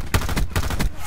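An M16 rifle fires in Black Ops 4, a quick string of loud, close shots in an even rhythm, about five or six in just over a second.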